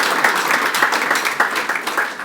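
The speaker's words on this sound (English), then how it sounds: "And round of applause." A crowd applauds steadily, dense clapping from many hands continuing at an even level throughout.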